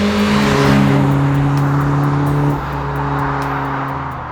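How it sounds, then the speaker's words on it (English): BMW E30 M3 by Redux engine revving hard, a loud sustained engine roar that holds steady then drops in pitch as it eases off, with a faint ticking overhead. "This is the BMW E30 M3 by Redux."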